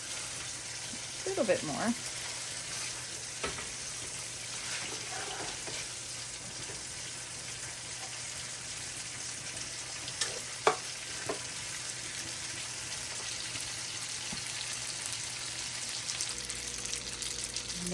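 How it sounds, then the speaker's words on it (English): Pasta is stirred and tossed in a pan of garlic, butter and wine sauce, with a soft, constant sizzle and occasional scraping clinks of a utensil against the pan. A voice speaks briefly near the start. "I'll give that a nice little mixing so that my pasta takes on that flavor of the butter sauce"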